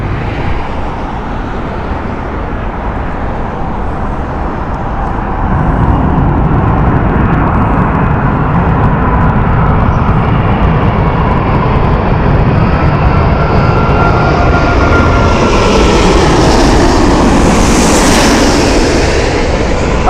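Emirates airliner landing on Heathrow runway 27 left, a loud, sustained jet engine roar that swells past five seconds and keeps building, with a rising whine and rushing air near the end.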